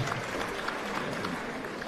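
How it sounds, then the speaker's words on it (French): Crowd applause at a sporting event, greeting two champions in a match, a steady, dense patter of many hands clapping throughout with no talk over it. "il mérite des applaudissements"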